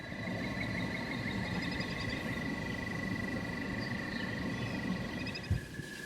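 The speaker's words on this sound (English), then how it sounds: "frogs are rejoicing" Frogs croaking on Easter morning at Celina Lake in the Hoosier National Forest, a steady dense chorus of calls with high trills layered over it, continuous and moderately distant, no talking.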